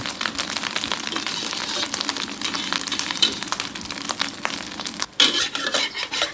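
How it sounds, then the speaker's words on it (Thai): An egg fries in a pan of hot oil over medium heat with shallots, for a Thai omelette with shrimp paste, giving a steady, close, loud sizzle and crackle that runs throughout, with a brief dip near the end. "น้ำมันร้อน เราก็นำไข่ใส่ลงไป"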